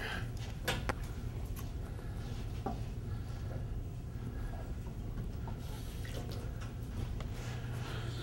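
Something is rinsed under running water at a sink, a continuous soft splashing flow with a few sharper drips and clinks, close by and quiet.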